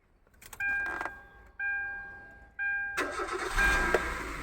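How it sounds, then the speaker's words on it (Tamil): A car engine cranks in several short tries with a whining starter, then catches and revs loudly into a running idle, heard close up with no talk. "சூப்பர், வண்டி பக்காவாக ஸ்டார்ட் ஆகுது, லேட் ஸ்டார்ட்டே இல்லை"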